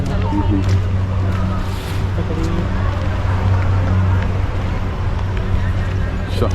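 Engine boats near Malé in the Maldives drone steadily with a low, continuous motor rumble, surrounded by waterfront ambience and distant crowd babble throughout.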